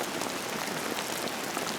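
Steady rain falls in high country just before hoped-for snow, a dense even hiss of drops on surfaces that runs unbroken throughout, with no voices.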